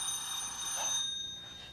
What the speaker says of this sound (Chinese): 啊，对不起啊， 我接个电话。